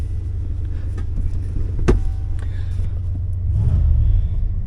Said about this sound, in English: Big block's running great, as it should.